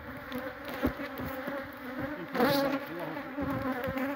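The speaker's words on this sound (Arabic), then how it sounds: "النحل يلسع يهاجم وانت تجمع العكبر" Aggressive honeybees buzz steadily around an open hive while propolis is scraped, a dense, continuous drone with individual bees swelling louder as they pass close, with occasional sharp knocks.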